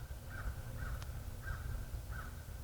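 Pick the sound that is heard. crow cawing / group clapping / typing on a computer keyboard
crow cawing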